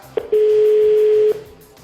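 A single steady electronic telephone tone sounds loudly for about a second after a short blip, during a call placed from a live French radio show, with no voices over it.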